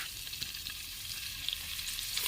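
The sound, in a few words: onions frying in oil for crab biryani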